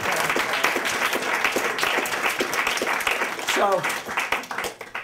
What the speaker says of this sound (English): let's have an applause for that